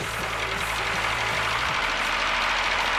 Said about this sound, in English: We're gonna test this engine performance.